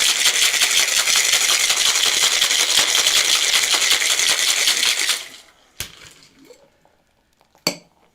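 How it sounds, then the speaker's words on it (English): A cocktail shaker with ice being shaken hard for about five seconds, a dense rapid rattle, followed by a couple of sharp clinks as it is set down and opened. "We're going to shake this up."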